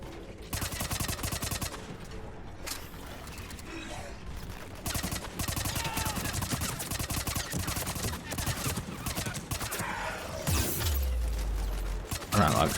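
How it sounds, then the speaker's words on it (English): Rapid, continuous SMG fire rattles in long bursts throughout a Mass Effect 3 firefight, with brief pauses, clattering impacts and faint voices underneath. "I don't like this SMG."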